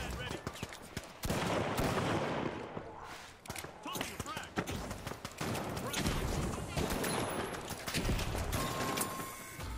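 Pirate pistol shots in The Finals, a first-person shooter game, crack out in loud, rapid bursts through most of the stretch, with brief pauses between volleys amid dense game noise and a voice talking.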